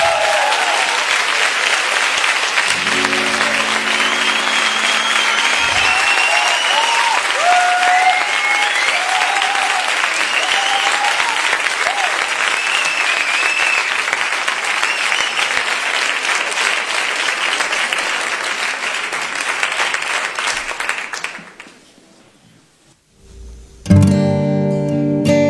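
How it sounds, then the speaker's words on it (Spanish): A concert audience applauds two musicians with long, loud, sustained clapping and whistle-like cheers, which fade out after about twenty seconds before a brief, different noise at the end. "Por favor, un aplauso."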